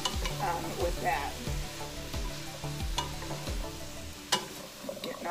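Two pounds of summer squash sizzles in a pot on the stove while being stirred, steady frying crackle with rhythmic scraping strokes and a sharp clack near the end, no talk.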